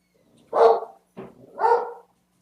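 A dog barks indoors, two or three loud, close barks in quick succession standing alone against a quiet background.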